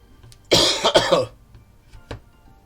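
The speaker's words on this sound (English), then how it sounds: "Thank you, lungs, for not deciding to cough until after I got done." A single harsh cough bursts out up close, followed by a faint throat sound a moment later, with quiet in between.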